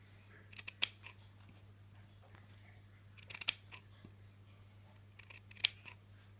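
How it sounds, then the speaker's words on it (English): Scissors snip through the edge of a hand-sewn fabric seam in three short bursts of crisp cuts, close up, over a quiet room hum. "I'm going to cut that down to half the size or less that it was"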